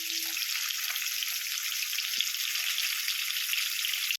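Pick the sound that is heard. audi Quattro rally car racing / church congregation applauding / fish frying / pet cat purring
fish frying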